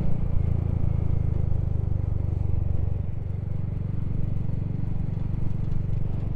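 A Royal Enfield Hunter 350 fitted with a 16-tooth sprocket cruises in third gear at about 50 mph, a steady low engine rumble with heavy wind buffeting, no voices.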